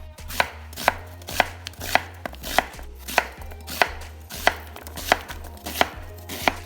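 Vegetables being chopped with a knife into quarter-inch pieces for a burger, about fourteen crisp knife strikes on a board in a steady rhythm, close and clear, with a low hum beneath and no talk.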